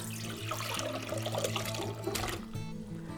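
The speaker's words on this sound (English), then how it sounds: "So just going to dump it right into our pot." Food and water pour and splash steadily into a pot, a continuous gurgling rush that stays loud for a few seconds with no talking.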